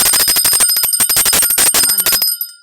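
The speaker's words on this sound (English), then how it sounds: "Let's ring that damn bell." A bright bicycle-style bell rings in a fast, loud burst of repeated dings, close up, then cuts off and rings out briefly.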